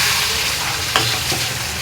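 Lote fish (Bombay duck) frying in a pan gives a loud, dense, steady sizzle close up, with a couple of short stirring scrapes partway through.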